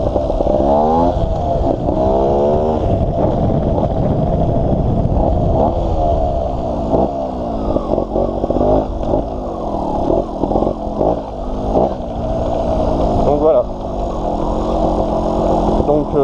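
A GasGas 250 trial two-stroke motorcycle rides over rocky ground, its engine loud and close throughout with constantly shifting revs, and someone talks over it.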